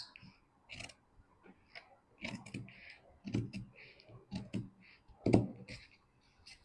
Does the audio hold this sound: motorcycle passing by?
no